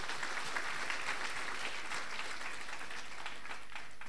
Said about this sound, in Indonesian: Kita berikan aplaus untuk beliau.